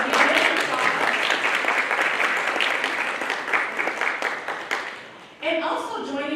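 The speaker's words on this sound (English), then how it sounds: "Let's give them applause." An audience at a college hunger summit applauds in a dense, sustained burst of clapping that fades slightly before a voice begins speaking over the room.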